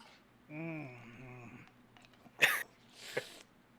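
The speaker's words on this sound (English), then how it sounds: "Oh, I coughed." A person on a podcast coughs after tasting a brutal hot sauce: two sharp, close bursts about a second apart, following a brief voiced hum, loud against a quiet room.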